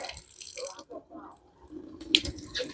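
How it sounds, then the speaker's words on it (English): Water from a faucet runs into a Berkey water filter, a close, uneven splashing and trickling with small drips, growing brighter and louder toward the end. "All right, so you're going to get some water going."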